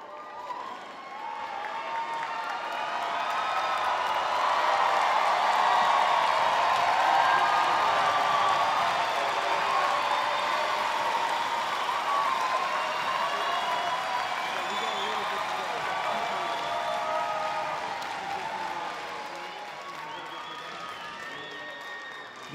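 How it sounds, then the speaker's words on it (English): Uproarious applause and cheering from a commencement crowd as graduates rise at the Collin College ceremony, a dense sustained wash of clapping and shouts that swells over several seconds, holds, then slowly eases off. "you're not always going to get that kind of an uproarious applause when you rise"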